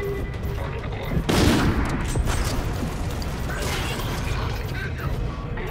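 Gunfire from the video game Call of Duty Infinite Warfare rattles in dense automatic bursts, with a loud volley early on and mechanical clatter continuing beneath throughout.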